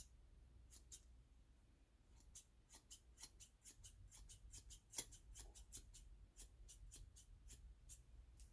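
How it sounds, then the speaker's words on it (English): Crisp snipping of scissors cutting a wig, a steady series of short cuts in quick irregular rhythm, close up over a low background hum. "I'm going to use my scissors going up just"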